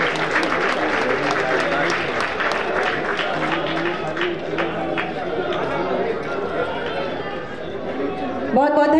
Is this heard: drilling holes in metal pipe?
no